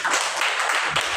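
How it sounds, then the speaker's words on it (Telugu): A church congregation at Sunday worship in Kummarigudem clapping hands loudly together, making a dense, close wash of applause that holds steady through a brief burst. "మంచిగా గట్టిగా చప్పట్లు కొడదామండి"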